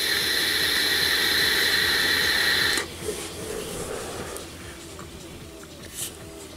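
Geek Vape Ammit RTA vaporizer hissing loudly and steadily for a few seconds as a puff is drawn, then cutting off into quieter background noise.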